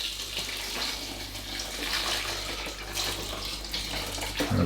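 A steady, close pour of hot bouillon stock splashes into a slow cooker of smoked haddock kedgeree, a continuous watery rush lasting several seconds before it stops abruptly.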